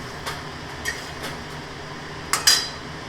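A few light metallic clinks of a spoon against a pan while potatoes are stirred in curry sauce, sparse and soft over a quiet kitchen background, with a sharper double clatter near the end.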